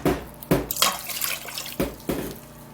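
Water is poured from a glass into a pot in several separate splashing bursts, close and fairly loud, for brewing tea bags; no one talks.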